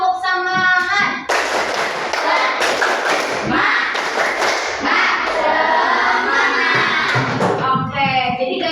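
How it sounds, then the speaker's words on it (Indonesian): A classroom of children performs a rhythmic spirit clap, with repeated loud claps and thumps in a patterned beat, joined by shouted children's voices, filling most of the clip after a brief spoken lead-in. "Tepuk semangat."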